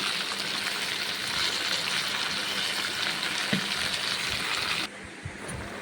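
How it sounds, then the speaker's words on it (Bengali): Cashew nuts frying in oil in a wok, a dense steady sizzle with soft spoon scrapes and brief stirring knocks, ending in a quieter stretch. "ভেজে নিচ্ছি"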